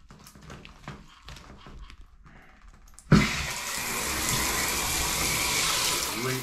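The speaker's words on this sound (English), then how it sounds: "now we're gonna take the water again and turn it on" Shower water is turned on to rinse out a drain after clearing a clog with a drain snake: quiet handling noises first, then the water bursts on abruptly and runs loud and steady, close by.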